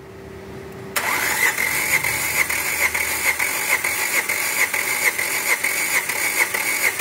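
A Renault Logan engine cranks during a cylinder compression test, the starter kicking in abruptly after a quiet moment and then churning in a steady, rapid pulsing rhythm for several seconds.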